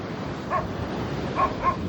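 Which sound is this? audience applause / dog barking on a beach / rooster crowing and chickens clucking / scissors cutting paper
dog barking on a beach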